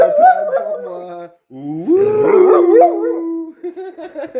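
A female dog howls along as a person sings, close and loud, with long wavering howls and a brief pause between phrases.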